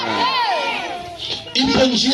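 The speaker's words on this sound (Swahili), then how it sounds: "Hebu mpe Yesu makofi na vigelegele." A church congregation ululates in high wavering trills and then breaks into a louder burst of cheering, fairly close.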